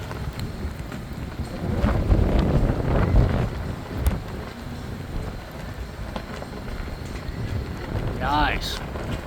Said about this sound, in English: Whipping in the wind.